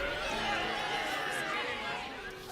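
A crowd in the video game Baldur's Gate 3 cheers and clamours in a dense, continuous wash of voices, loud and steady before easing slightly at the end.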